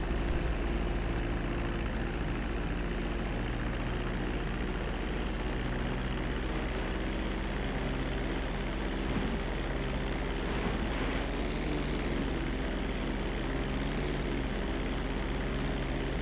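A propeller airplane engine drones steadily in flight in the video game GTA V, a continuous loud hum with stable tonal bands throughout, with no talk over it.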